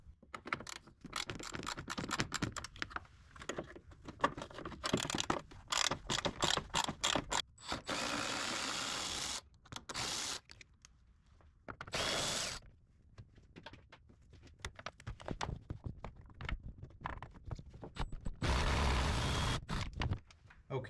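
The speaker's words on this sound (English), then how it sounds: "pull these 4 bolts off that hold the plastic fan shroud on" Hand ratchet clicking in repeated bursts while loosening the four bolts that hold the plastic fan shroud on a 1999 Toyota 4Runner, close and fairly loud, with pauses and occasional handling clatter between the runs.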